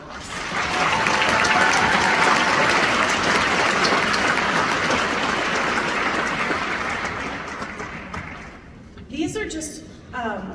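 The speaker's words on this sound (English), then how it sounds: "Let's thank our families and guests here today with a massive round of applause" Sustained, loud applause from the audience at a graduation ceremony swells and holds before thinning out, with a speaker's voice returning near the end.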